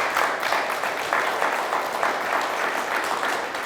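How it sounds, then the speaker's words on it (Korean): Audience applause at a lecture hall event on the May 18 democratic history course, steady dense clapping across the whole stretch, fairly loud and close, with no talk over it. "우리 박수 한번 쳐드립시다."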